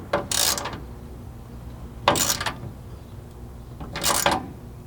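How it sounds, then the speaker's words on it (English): A 1/2-inch flex-head ratcheting wrench clicks in three brief bursts, about two seconds apart, as it tightens bolts behind a bed bracket on a Nissan Frontier pickup, close and fairly quiet. "a 1/2-inch flex head ratcheting wrench like I have here"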